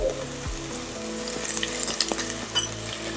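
Ginger garlic paste and onion sautéing in a pan for a millet fenugreek pulao, with a crackling sizzle under scattered clinks and scrapes of a spoon against the pan, close and fairly quiet.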